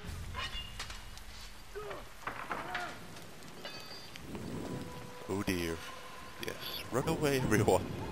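Rain and thunder in the Shogun 2: Fall of the Samurai video game, a steady patter of rainfall with low rumbles, mixed with game voices and other in-game effects.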